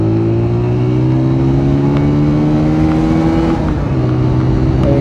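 A Honda CG 125 motorcycle engine revs with a steady, rising droning tone, loud and close throughout, with a slight pitch climb as the bike pulls.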